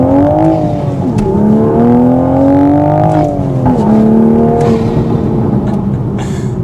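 A manual MK5 Toyota Supra drives along, its engine droning steadily as it revs up and shifts, the pitch climbing and dropping with each gear change, loud and continuous from inside the cabin.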